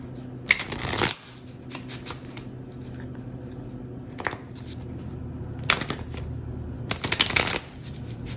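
Tarot cards shuffled in several bursts of crisp riffling and flicking, with quieter handling between, close up and alone.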